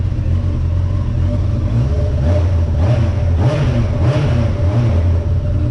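A Yamaha R1 motorcycle engine on its stock exhaust runs steadily nearby, a continuous low rumble with a few brief rises in revs, no voices.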